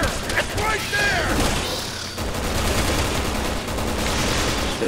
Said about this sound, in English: Just gonna keep shooting it.